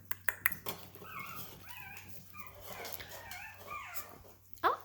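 Young puppies whimper and yip at close range, with a few sharp yelps at the start and thin, wavering whines scattered throughout over a low steady hum.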